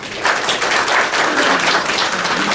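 Audience applause at a live mediumship demonstration, a dense, steady wash of many hands clapping that holds loud and even across the moment without any speech over it.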